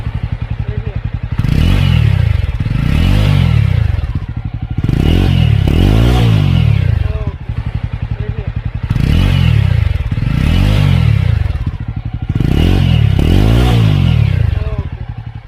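A Jawa 42 motorcycle engine revs repeatedly at close range, its throttle blips rising and falling in a steady rhythm over a rough, continuous idle, loud and without talk.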